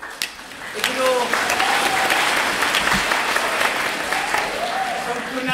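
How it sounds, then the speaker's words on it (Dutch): An audience applauds during a Dutch stage production of Macbeth, a full spread of clapping from many hands that continues evenly, with a voice speaking over it in places. "Ja, maar applaus hoor. Echt, applaus."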